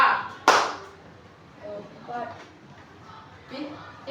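Students in a classroom counting game give a sharp burst of hand claps near the start, followed by children's voices chanting and talking over quieter room noise.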